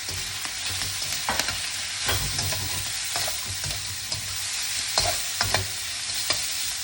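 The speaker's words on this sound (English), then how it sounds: "stir fry a little bit further" Onion and carrot stir-fried in a hot wok for pineapple fried rice, a steady loud sizzle broken by repeated scraping and tossing strokes of the spatula, with no talking.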